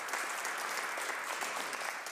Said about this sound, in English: Wow, that's worth some applause,